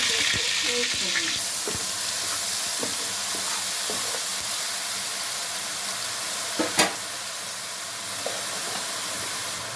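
Onion and cumin paste dropped into hot oil for a fish curry, a loud hissing sizzle that settles into steady frying with a few stirring scrapes, close and without talk.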